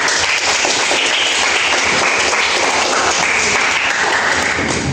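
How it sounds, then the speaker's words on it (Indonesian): Steady, dense applause from a classroom audience clapping for a student, continuous and fairly loud throughout with no talking over it. "tepuk tangan buat Sultan."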